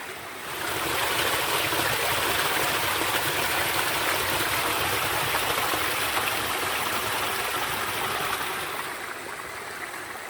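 A clear mountain valley stream flows between moss-covered rocks in a primitive Korean valley, swollen after rain, making a steady, even rush of water without pause.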